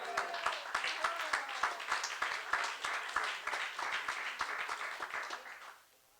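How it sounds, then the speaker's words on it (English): An audience at a party congress plenary applauds, a dense, steady patter of many hands clapping that carries on for several seconds before fading out. "Let's give another round of applause for ODC."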